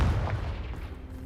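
A Confringo fire spell blasts in Hogwarts Legacy, one heavy low boom opening the moment and then rolling off into a fading rumble, fairly quiet and heard alone.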